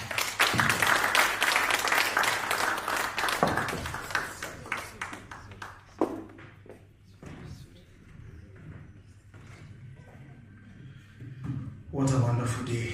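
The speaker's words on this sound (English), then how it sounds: "Another round of applause," An audience at a medical launch event bursts into loud applause that fades after a few seconds, then a voice speaks over a quieter room before a brief rise of noise at the end.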